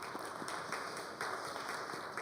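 A church congregation applauds during a New Year's Eve worship service, a faint, steady patter of scattered hand clapping heard from a distance throughout.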